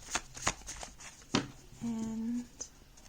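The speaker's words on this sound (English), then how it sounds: "let me just shuffle a few times" Tarot cards are shuffled by hand during a card reading: several quick, crisp riffling bursts, close and fairly quiet, with a brief hummed voice tone partway through.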